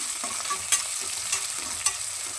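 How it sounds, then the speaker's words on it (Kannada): Onions frying in a pan for vegetable pulao, a gentle steady sizzle broken by a few sharp clicks of a spoon stirring against the pan, close and without voices. "ಫಸ್ಟ್ ಈರುಳ್ಳಿ ಕರ್ಬೇನ ಹಾಕ್ಬಿಟ್ಟು ಫ್ರೈ ಇದ್ದೀನಿ"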